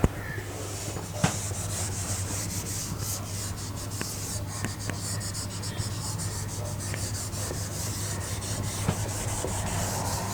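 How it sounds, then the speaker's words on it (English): Steady, close scrubbing as an eraser rubs writing off a board, with a continuous soft friction texture and a few light knocks and taps along the way, with no talking. "Okay, so I'll rub this part now."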